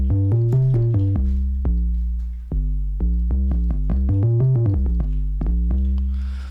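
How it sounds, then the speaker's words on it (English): A deep synth bass patch, a recreation of the bass from Mall Grab's 'Liverpool Street in the Rain', plays a short melodic line of punchy, sustained notes with slight pitch glides, loud and on its own. "On the first sound we're going to do is a bass that sounds like this"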